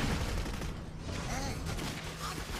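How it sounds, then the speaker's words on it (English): Gunfire from the video game Clive Barker's Jericho rattles in a dense, loud continuous barrage with heavy low-end rumble and no pauses, with speech likely buried under the noise. "I'll just shoot her"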